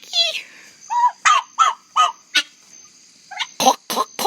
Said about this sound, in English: That's a big fucking turkey.